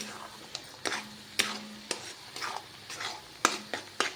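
Chicken masala being roasted in a pan for an Alani chicken dish, with a spatula scraping and stirring in repeated sharp strokes over a soft, low sizzle, close by and with no talking.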